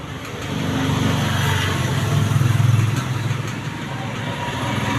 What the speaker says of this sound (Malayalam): ടോർക്ക് മോട്ടർ വലിഞ്ഞകത്തേക്ക് പോയി